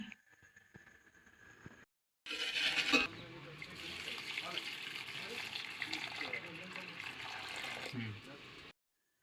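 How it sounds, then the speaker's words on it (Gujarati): Water is poured over flattened rice (poha) being soaked for potato poha, a steady gushing pour lasting about six seconds after a brief quieter start, fairly faint and close. "પવાને આપણે હવે પલાળી દઈએ"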